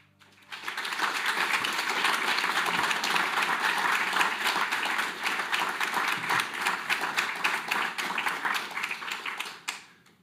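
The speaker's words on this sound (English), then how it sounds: "thank you very much for that applause" Sustained audience applause at a Climate Week 2025 panel event, dense clapping from a full room rising quickly, holding steady for about nine seconds, then cutting off.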